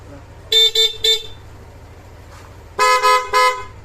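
A car horn honks loudly in two sets of three quick, evenly spaced toots over a low idling engine.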